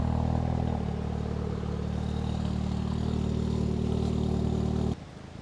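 A Volkswagen GTI idling loudly, a steady low engine drone with a constant hum close by, cutting off abruptly near the end.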